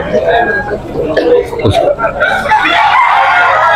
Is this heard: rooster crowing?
yes